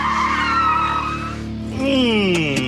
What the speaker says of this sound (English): Quick swerve one way, cut hard the other, pull the handbrake.